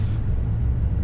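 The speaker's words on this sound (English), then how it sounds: "Setting out in the 2017 KIA Cadenza" A 2017 Kia Cadenza Premium with a 3.3-liter V6 under way, giving a steady low, muffled road-and-engine rumble inside the cabin for a brief moment with no talk.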